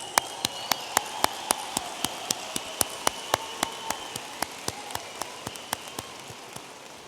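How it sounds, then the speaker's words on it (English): Slow, regular claps ring out one by one, evenly spaced and fairly close, roughly three per second, over a quiet hall ambience during a Texas A&M International University spring commencement ceremony. "Round of applause."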